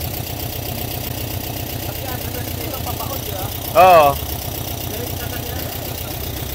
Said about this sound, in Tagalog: So yan mga kapatid, ganyan talaga yung tunog ng Volkswagen.